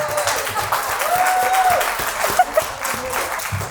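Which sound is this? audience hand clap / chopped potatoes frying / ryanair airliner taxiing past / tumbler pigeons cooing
audience hand clap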